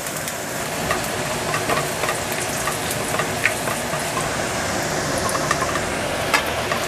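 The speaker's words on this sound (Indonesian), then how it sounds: "aku masaknya di wajanku ya, di wajan halal," Food fries in a halal wok with a steady, close sizzle, dotted with small crackles and pops throughout.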